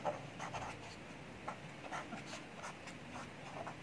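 Pen or marker writing during a mathematics lecture on functions, faint scratchy strokes coming in short irregular bursts against a quiet room, with no talking.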